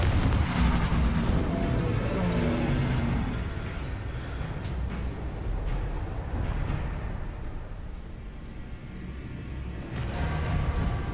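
Confringo and Bombarda spell explosions burst in combat in Hogwarts Legacy, a string of loud booms and crackling blasts over a dense, continuous rumble of battle noise.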